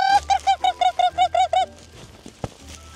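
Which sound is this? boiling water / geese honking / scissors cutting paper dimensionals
geese honking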